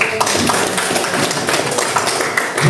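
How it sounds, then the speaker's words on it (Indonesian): Classroom applause for classmates during a vocational high school lesson on prompt engineering for content creation: steady, dense clapping from a group, loud and close, continuing without a break for a few seconds. "Oke, tepuk tangan untuk teman-teman."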